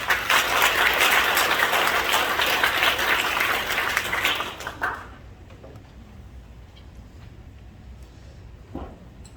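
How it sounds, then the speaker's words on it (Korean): A Korean church congregation at an ordination service gives loud, sustained applause as an elder comes forward, then the clapping fades into quiet room noise with a few scattered claps. "우리 장로님 나오실 때로 박수해 주시기 바랍니다"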